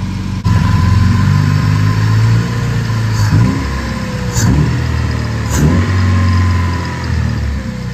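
A Honda K-series-swapped CRX engine idles steadily nearby, its rumble dipping and swelling a few times as the revs waver unevenly with a sticking throttle body.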